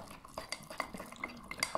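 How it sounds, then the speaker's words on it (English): Spoon or fork mixing mug cake batter inside a mug, with quiet, close scraping and repeated light clinks against the ceramic in a quick irregular rhythm. "Take a spoon or a fork and get that mixed in really well."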